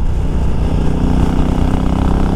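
A Honda Africa Twin 1100 Adventure Sports fitted with a quick-shifter, heard while riding, gives a loud, steady engine drone with a broad rumble throughout and no voices.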